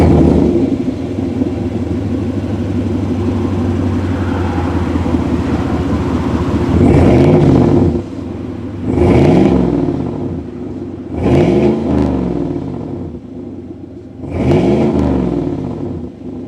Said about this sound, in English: Let's go inside this naturally aspirated V8 and hear that exhaust.